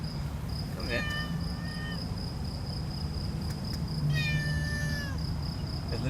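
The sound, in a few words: cat meowing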